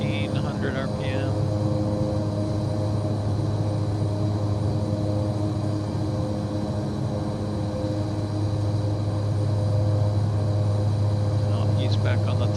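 Steady, loud drone of a Cessna 408 propeller engine held at 1600 RPM in a flight simulator, an even tonal hum that runs unbroken throughout with no talking.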